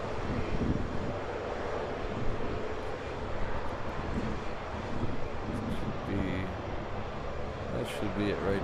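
A Delta airliner passes at Honolulu airport in high winds, giving a steady broadband jet roar mixed with gusty wind buffeting on the microphone. Voices murmur faintly underneath.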